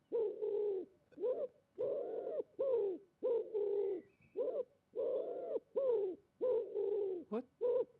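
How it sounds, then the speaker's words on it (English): A bird gives repeated pigeon-like cooing calls, about a dozen soft hollow coos in a steady rhythmic series, fairly close and clear against a quiet background. "I'm hearing a bird."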